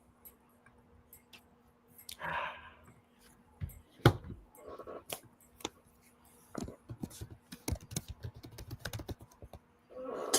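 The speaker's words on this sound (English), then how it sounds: "Fingers is typing." Fingers typing on a computer keyboard in irregular bursts of close, sharp key clicks, with pauses between runs and a faint steady hum behind.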